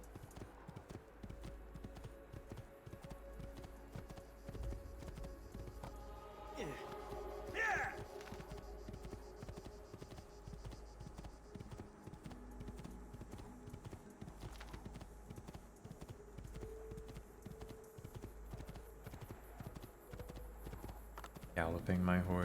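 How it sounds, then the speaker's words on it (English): Horse hooves clip-clop in a steady rhythm as a horse is ridden in Assassin's Creed 2, faint under continuous game ambience, with someone talking over much of it. "Galloping my horse."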